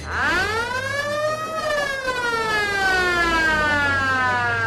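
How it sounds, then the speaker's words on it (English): End-of-game siren at a rugby league match between Thirlmere and Narellan: a single long wailing tone that rises and then slowly falls, moderately loud over faint crowd and ground ambience, with no talking. "There's the siren in the background."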